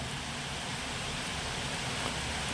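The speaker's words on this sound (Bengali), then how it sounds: "আজকে কিন্তু প্রচণ্ড বৃষ্টি পড়ছে আর প্রচণ্ড কিন্তু আওয়াজও হচ্ছে" A steady, dense wash of rain hisses without a break, loud and even throughout, with no voices and no distinct individual drops.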